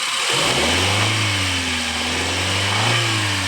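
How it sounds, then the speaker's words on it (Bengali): A 1995 model car engine catches right at the start and then runs steadily close by, with a smooth, even mid-pitched hum and a slight rise and fall in revs. "গাড়ি কিন্তু আমি যদি স্টার্ট ইঞ্জিনের সাউন্ডটা শোনাই"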